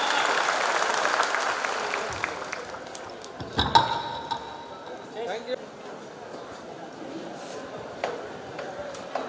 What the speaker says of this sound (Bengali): করতালি সবাই